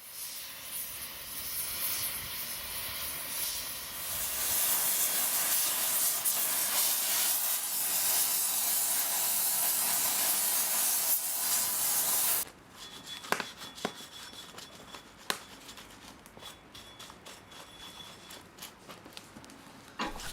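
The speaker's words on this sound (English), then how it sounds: "Here we are brazing with brass filler, which melts at over 900 degrees Celsius." A brazing torch heating a vise while brass filler is applied, a steady loud roaring hiss for several seconds that cuts off abruptly, followed by quieter scraping, taps and clinks.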